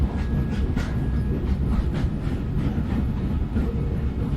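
A train in the indie mystery game Grunnd rolls along with a steady low rumble and faint rhythmic clatter, loud and continuous with no one speaking.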